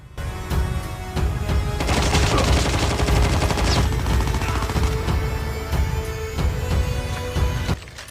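Rapid automatic gunfire crackles in Call of Duty Mobile battle royale, with sustained bursts and scattered single shots over a continuous loud battle din, no speech.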